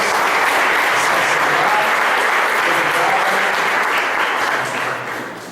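A church congregation applauds their God in a sustained, dense wash of clapping that holds steady at fairly loud level and eases off slightly at the end.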